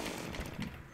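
A saw weapon from the Terraria video game cuts with a buzzing, chainsaw-like whir, a quiet, continuous, rough drone over about a second, with no speech.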